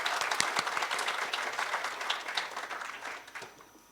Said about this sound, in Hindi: सबकी जोरदार तालियां तो बनती हैं।